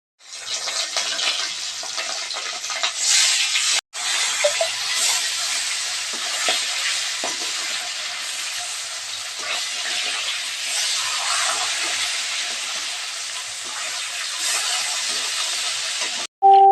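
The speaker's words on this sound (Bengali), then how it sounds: "কড়া বসালাম কড়ার মধ্যে মাছগুলো ছেড়ে দিলাম" Fish rubbed with salt and turmeric fries in hot oil in a kadai wok, producing a loud, continuous close sizzle and hiss that drops out for a moment before resuming steadily.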